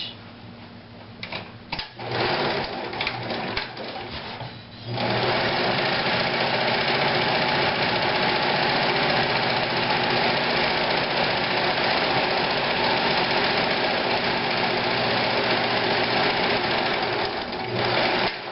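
Sewing machine hemming a chair slip cover: a few brief starts, then a long unbroken run of fast, close mechanical stitching that stops near the end.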